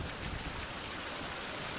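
Steady rain pours down in the 16th-century survival game Survival: Fountain of Youth, a dense, even hiss of drops on surfaces with no breaks, fairly soft and close, no voices.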